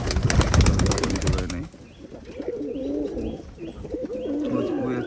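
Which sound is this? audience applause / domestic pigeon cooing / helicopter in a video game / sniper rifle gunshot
domestic pigeon cooing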